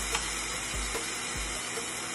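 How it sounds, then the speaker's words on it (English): Watermelon steaks sizzle on a hot grill, a steady close hiss with a few faint low thumps, no voices. "I'm going to put these on this grill, baby"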